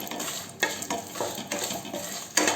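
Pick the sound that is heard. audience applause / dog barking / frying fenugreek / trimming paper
frying fenugreek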